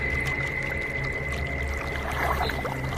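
A boatman poles a wooden boat through a village wetland in an animated ghost story, water sloshing and swirling steadily around the hull with a low rumble and a constant high tone beneath, no voices.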